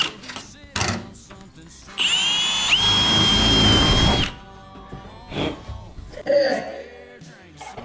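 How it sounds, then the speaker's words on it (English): A power drill whirs in a sustained two-second burst during bodywork on a modified car, close and loud, with people talking before and after the drilling. "that's a drill"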